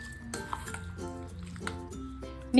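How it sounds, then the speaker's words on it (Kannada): Metal spoon clinking and scraping in a bowl while chilli chicken marinade is stirred, with a few light clinks and soft stirring noises close by and no talking. "ಇದನ್ನ ಚೆನ್ನಾಗಿ ಮಿಕ್ಸ್ ಮಾಡ್ಕೊಂಡು ಬಿಡೋಣ."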